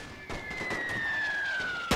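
Scattered rifle gunfire from World War I soldiers in The Great War, a few distant sharp cracks spread over a tonal background hum, ending with one closer, louder shot.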